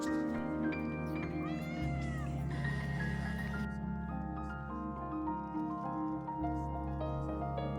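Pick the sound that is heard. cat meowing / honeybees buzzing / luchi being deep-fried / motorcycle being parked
cat meowing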